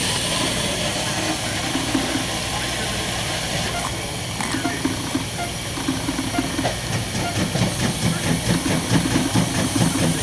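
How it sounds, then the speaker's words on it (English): Pumps run in a refurbished Semitool Spray Acid Tool with two chambers starting up, a loud, constant mechanical hiss and hum with a faint rhythmic pulsing, and voices are heard over it. "We can hear pumps"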